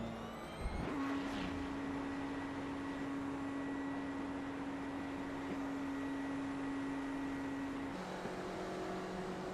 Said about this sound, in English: So that's what the bump start sounds like.